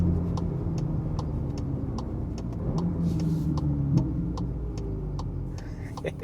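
A Volkswagen Polo GTI on the road, heard as a steady low car engine drone with road rumble and faint ticking, continuous and fairly close inside a moving car.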